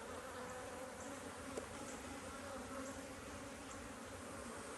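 A dense, steady hum of honeybees buzzing around a hive of frames, soft and continuous with no voices, a few brief louder passes drifting over the constant drone.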